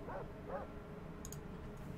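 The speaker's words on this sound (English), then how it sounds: "Oh, now the dogs are attacking." Dogs barking in Fallout 2 as they attack in an abandoned wasteland area, two short yelping barks near the start over a steady game background, then fading.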